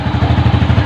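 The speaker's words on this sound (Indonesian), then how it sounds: "Kemudian kita hidupin motornya." A fuel-injected Yamaha Jupiter Z1 FI motorcycle engine idles after starting, a loud, close, rapid chugging pulse with an even rhythm over a brief moment.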